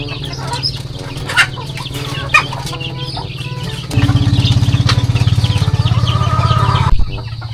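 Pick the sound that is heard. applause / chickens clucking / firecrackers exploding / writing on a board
chickens clucking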